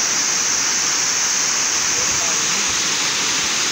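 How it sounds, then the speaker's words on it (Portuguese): Water cascading over rocks at a waterfall in southern Brazil, a steady, loud, broadband rush that fills the whole clip without a break. "Olha que lindo, gente, o barulho dessa água."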